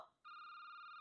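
A telephone rings in the Courage the Cowardly Dog horror game, a loud, steady electronic tone that starts abruptly after a brief quieter moment and holds without a break, with no voices.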